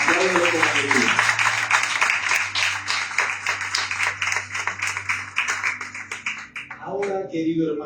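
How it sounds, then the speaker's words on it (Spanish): A church congregation in a Medellín service claps together in a fast, steady rhythm, loud and close, with a sustained low tone and a voice heard at the start and again near the end. "Si va a aplaudir, apláudelo con alegría"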